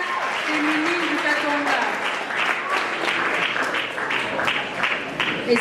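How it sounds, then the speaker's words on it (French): Sustained, loud audience clapping at a gospel music awards show fills the whole stretch as a singer makes her way forward, with voices and some musical tones mixed in beneath the applause. "On applaudit encore le temps qu'elle arrive."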